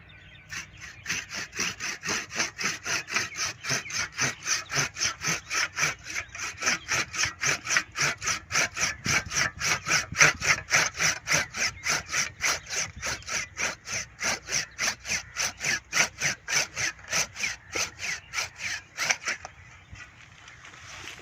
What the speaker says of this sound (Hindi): तो अब हम इस शाख को काट देंगे